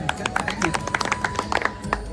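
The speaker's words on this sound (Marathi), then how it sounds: "स्वतःसाठी टाळ्या होऊन जाऊ द्या एकदा." A group of people on the Pandharpur wari pilgrimage clapping for themselves, a short burst of scattered, uneven hand claps at close range, with voices heard faintly under the claps.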